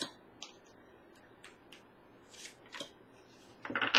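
Tarot cards are picked and handled in a quiet room. Soft, scattered card flicks and taps sound close up, building to a quick cluster of shuffling rustles at the end.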